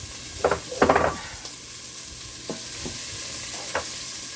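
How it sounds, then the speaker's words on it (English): Onions frying in a pan for collard greens with smoked turkey, a soft constant sizzle broken by several close scraping stirs, the loudest early on. "I'm gonna add my onions"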